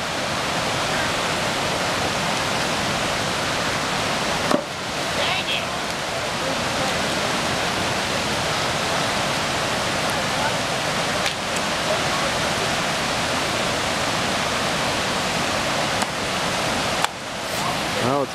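River water rushes in a constant broadband wash along a hiking trail in Christmas Meadows. A few sharp knocks and splashes break through the steady flow.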